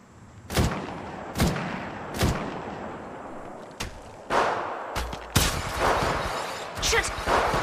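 Gunfire in the Apex Legends battle royale shooter: a series of loud, sharp, booming shots, first spaced about a second apart, then coming in quicker bursts toward the end, each with a short echoing tail.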